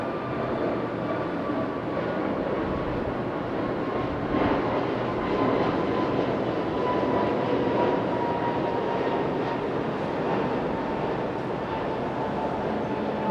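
A Jetstar airliner roars steadily at Okinawa airport, a loud, broad jet rumble with a faint whining tone running through it, holding constant throughout with no voices.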